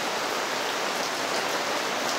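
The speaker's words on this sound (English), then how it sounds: "it got to raining a little bit harder" Steady rain drums on the covers of an enclosed gazebo at a lake, a dense, even hiss of drops pattering close by without pause or voices.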